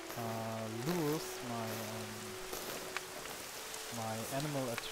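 Steady rain hisses across the ground in the Dragon's Dogma game world, a constant wash beneath a voice speaking over it in short bursts.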